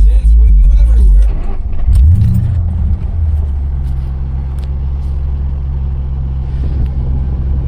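A 2009 Ford Mustang California Special with 97,000 original miles revs in neutral, giving a deep, loud, close rumble that surges once and then settles into a heavy idle while someone talks nearby.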